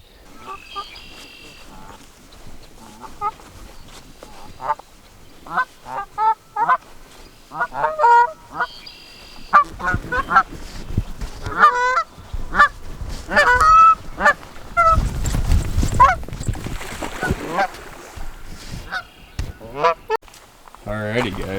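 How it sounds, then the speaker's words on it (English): Geese honk repeatedly at a lake campground, a chorus of loud, close calls in irregular bursts that grow busier and denser toward the end, with no talking. "Couple of geese."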